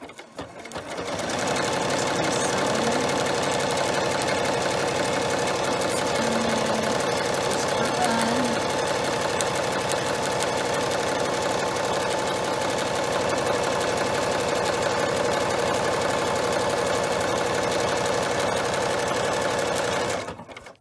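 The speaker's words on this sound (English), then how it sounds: "I put the stitch close together, and all I need to do is start sewing" A sewing machine runs a close zigzag stitch with a cording foot, passing over the middle bar in one steady, continuous mechanical hum at close range for about twenty seconds, with no talking over it.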